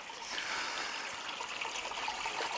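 Water runs steadily into an old stone town wells trough, a continuous soft trickle and splash nearby with no speech.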